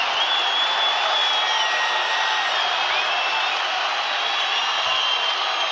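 A crowd at the Tbilisi Grand Slam 2024 judo finals roars and cheers in a steady, dense wall of noise that holds for several seconds, with faint whistles rising above the din.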